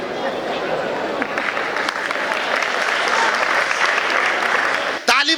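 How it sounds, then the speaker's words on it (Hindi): Sustained applause from an audience at a live Hindi comedy show fills about five seconds, dense and steady, then cuts off abruptly as a voice begins speaking. "ताली बजाने वाली बात नहीं है"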